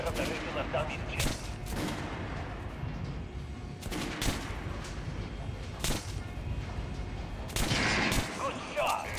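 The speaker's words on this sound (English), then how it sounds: "Try shooting for the center of the regular dummy chest." Gunfire aimed at a training dummy in Metro: Last Light: several sharp shots spaced apart over a steady background hum, fairly quiet overall, with a denser burst near the end.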